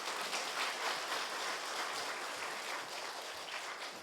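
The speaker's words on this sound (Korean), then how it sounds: "다시 한번 격려의 박수 해주시기 바랍니다." A church congregation applauds encouragingly after a testimony at a Sunday evening service, steady dense clapping throughout, moderately distant and without speech.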